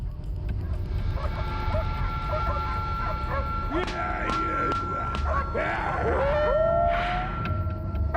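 Several farm dogs bark and yelp in a cluster, moderately close, over a constant tonal hum and background noise; no talking.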